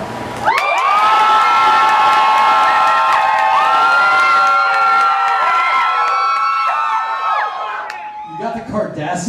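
A live concert crowd cheering loudly to pick a Star Trek song, sustained shouts and whoops from many voices in a continuous roar that drops off near the end, with brief voices after.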